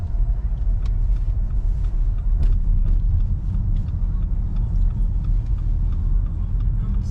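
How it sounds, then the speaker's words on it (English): A car drives along the road out of Flagstaff, Arizona, heard from inside as a steady, loud, low rumble of engine and tires with small bumps and ticks throughout. "We're just going to drive 5 minutes out of town"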